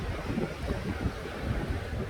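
Ocean waves wash onto a beach at sunrise as a low, continuous rumbling surf, blurred by gusting wind buffeting the microphone, with no voices.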